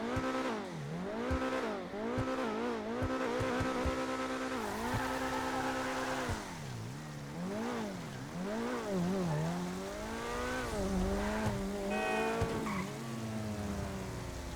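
A Coquette D5 sports car engine in GTA Online revs up and down repeatedly with tire squeals, a continuous loud racing-game engine roar with rising and falling pitch.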